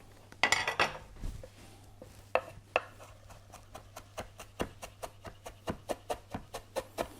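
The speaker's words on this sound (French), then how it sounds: "je vais prendre un bouquet d'anettes et avec mon couteau, qui lui aussi doit être bien affûté, je vais la hacher finement" A sharp knife finely chops a bunch of dill on a board. Crisp strikes start in a few loud bursts, then settle into an even, quickening rhythm of close, clean taps.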